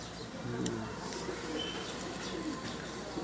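Low cooing of pigeons in a busy, noisy space, soft repeated coos blending with a constant background hum and scattered chirps.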